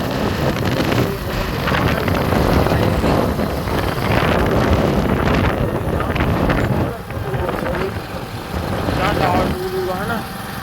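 A motorcycle rumbles along with heavy wind buffeting the microphone throughout, and voices can be heard faintly under the noise.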